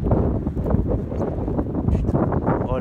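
Strong storm wind gusts buffet the microphone in rumbling bursts, loud and close, with no voices, in Isère, France.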